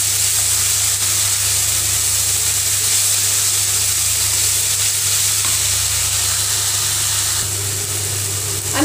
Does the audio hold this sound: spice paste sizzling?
yes